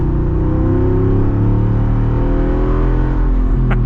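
A 2023 Jeep Wrangler 392 accelerates away with a loud, close engine roar whose pitch climbs steadily through the gears, heard alone without talk.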